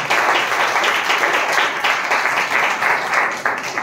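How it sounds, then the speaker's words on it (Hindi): A church congregation claps in praise during a Hindi sermon: loud, dense, sustained applause from many hands, rising and falling slightly throughout, with no speech over it. "ताली बजा के परमेश्वर का नाम।"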